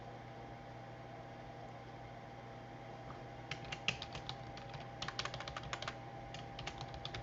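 Typing on a computer keyboard in a quiet room, a burst of soft clicking keystrokes starting partway in over a steady background hum, faint and close.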